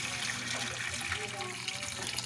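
Water pouring from a container during a Filipino household chore, saved to flush a comfort room toilet; a steady gushing splash with a broad hiss runs throughout, and a voice talks faintly underneath.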